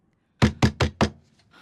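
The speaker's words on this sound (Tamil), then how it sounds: "நீலா கதவு தரடா துறையன்" Four firm knocks on a door in quick, even succession, close and loud, followed by a faint rustle and silence.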